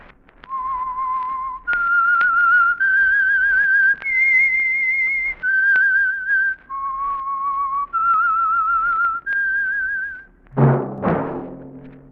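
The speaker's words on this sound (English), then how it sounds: "That whistle is your signal for the Signal Oil Program, The Whistler." Radio drama theme for The Whistler, sponsored by Signal Oil, rendered as a solo whistled melody of sustained, gliding notes in a steady phrase, ending with a brief burst of orchestral sound.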